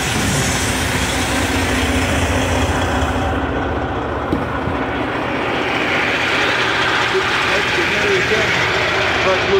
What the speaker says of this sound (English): Freaking trucks.